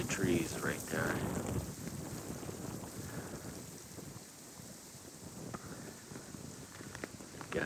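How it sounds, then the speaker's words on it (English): Wind gusts during a winter storm in Green County on an evening walk outdoors near power lines and trees, a rough blustery rumble against the microphone, loud at first and easing, with a voice speaking over it early on. "pretty windy conditions now"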